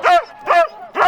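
Excited sled dogs bark before a race, three loud, close, evenly spaced yelping barks in quick succession.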